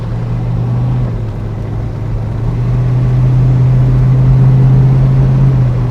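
A Mercury Cougar idling close by through a newly fitted Mustang exhaust kit, a loud steady low rumble with a hum that climbs slightly partway through, alone without voices.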